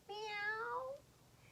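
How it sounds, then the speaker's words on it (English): A cat gives one low, drawn-out meow lasting under a second, clear and isolated against a quiet background. "Soon they heard a low meow, and Lily said, "Let's go back now."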